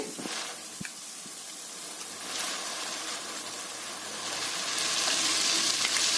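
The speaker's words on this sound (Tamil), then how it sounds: "அவ்வளோதான் இதை நல்லா வதக்கி விடுங்க இது ஒரு அஞ்சு நிமிஷம் வதங்கணும்" Chicken pieces coated with ginger-garlic paste and turmeric sauté in a pan for chicken kulambu, a continuous sizzle that swells louder toward the end, with a few faint stirring knocks early on.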